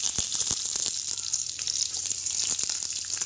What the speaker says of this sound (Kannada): ಸ್ವಲ್ಪ ಫ್ರೈ ಆಗಲಿ.